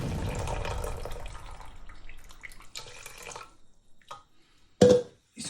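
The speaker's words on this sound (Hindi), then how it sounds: "इसके अंदर 1 कप पानी शामिल कर देंगे फिर से" A cup of water poured into Kashmiri tea, starting with a steady rushing pour that thins to trickles and drips, followed by a few brief clinks and splashes near the end, close by and without talk.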